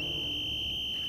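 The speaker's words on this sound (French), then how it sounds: "C'est le sifflet d'alarme de Roderick." A cartoon alarm whistle gives a steady, piercing single tone that holds for about a second, then ends in a short higher blip, with nothing else under it.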